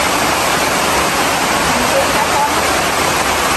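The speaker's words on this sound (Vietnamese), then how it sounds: "Giác này mưa lớn quá cả nhà." Heavy rain pours down in a steady, dense wash of noise that fills the whole stretch without letup, loud and close, with no voices over it.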